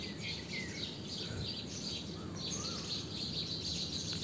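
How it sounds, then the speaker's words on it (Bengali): Sparrows chirp from a nearby mango tree at a safari park, a steady chatter of small calls layered over constant outdoor ambience with no talking. "চড়ুই কতগুলি পাশের আম গাছে বসে খুব শব্দ করছে।"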